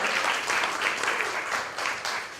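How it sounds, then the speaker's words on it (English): An audience at a grief symposium claps steadily, a dense, loud wash of hands that tapers slightly toward the end. "Y'all clap for him."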